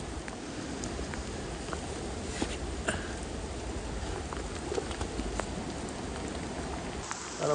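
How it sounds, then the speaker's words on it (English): Steady rain pours down on a forest trail of New Zealand's Milford Track, a dense continuous hiss of drops hitting leaves and ground, close around the listener, with faint scattered bird calls now and then. "Rocks and then this rain pouring down on me."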